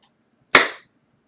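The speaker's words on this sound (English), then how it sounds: "I clapped" A single sharp hand clap, loud and close, with a short decaying ring in a quiet room and nothing else around it.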